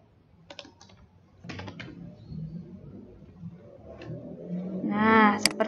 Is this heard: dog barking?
no